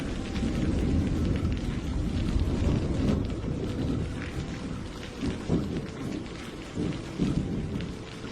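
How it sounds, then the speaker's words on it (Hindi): Heavy rain pours steadily on a surface while rolling thunder rumbles through it, a dense, loud storm backdrop with no voices. "बारिश अब और भी तेज होती जा रही थी।"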